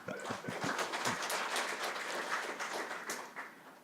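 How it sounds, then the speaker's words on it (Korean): An audience applauding at a first-anniversary gathering of a Korean organization: a faint, steady wash of many hands clapping that holds throughout and tapers slightly at the end. "여기서 다시 한번 박수 부탁드리겠습니다."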